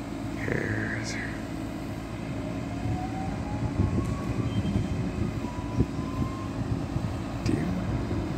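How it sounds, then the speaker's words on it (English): A train passes outdoors with a continuous low rumble and clatter of rolling cars, steady and moderately loud, with a brief high whistle-like tone early on and faint voices in the background. "Train."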